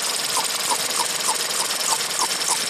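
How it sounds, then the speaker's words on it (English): A small hand vacuum pump works a Ford Escape brake booster hose with quick repeated strokes, about three per second, each a short squeaky hiss, close and fairly loud with no one talking. "just got a little vacuum pump connected to this hose here that goes to the booster. Pumping it up."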